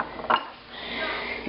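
A metal fork scrapes and clinks against a dish while mixing cinnamon roll cheesecake batter, one short clatter followed by a soft, steady scraping swirl, close and fairly loud.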